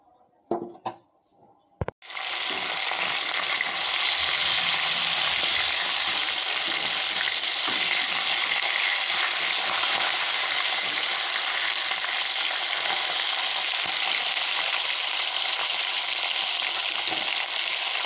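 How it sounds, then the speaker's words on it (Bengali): Fish heads fry in oil in a hot wok on a gas stove, a loud, constant crackling sizzle that starts abruptly after a couple of seconds of faint knocks and quiet. "গ্যাসে একটা কড়াই বসিয়ে দিয়েছি কড়াইটা গরম হোক মাছের মাথাগুলো ভেজে নেবো ভালো করে"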